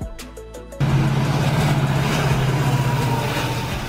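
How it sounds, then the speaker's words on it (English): A diesel train engine cuts in abruptly after a brief burst of other sound, then holds a loud, steady, low throbbing drone close by for the rest of the clip. "Diesel train."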